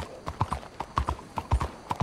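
Horse hooves clip-clopping in Red Dead Redemption 2, a quick uneven run of distinct hoofbeats, fairly close and moderately loud, with no talk over them.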